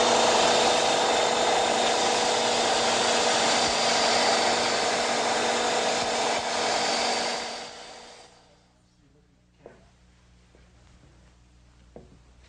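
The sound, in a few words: belt sander sanding pine box with dust collection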